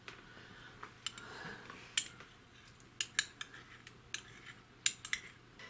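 A spoon is fetched from a kitchen cutlery drawer. Sparse, faint metallic clinks and taps ring out over a low steady room hum, spaced irregularly across several seconds, with no speech.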